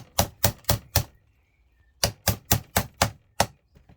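A steel chisel knocking heat sinks off low-grade circuit boards: sharp, dry knocks in two quick bursts, four evenly spaced strikes, a pause, then six more in steady rhythm, close and clear with no talk.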